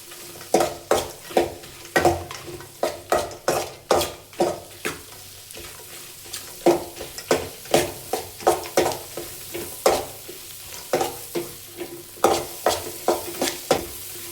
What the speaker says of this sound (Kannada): ಇದ್ರ ಜೊತೆಗೆ ಸ್ವಲ್ಪ ಅರಿಶಿಣದ ಪುಡಿನ ಹಾಕ್ಕೊಳ್ಳಿ. ಇವಾಗ ಫ್ರೈ ಮಾಡ್ಕೊಳ್ಳಿ.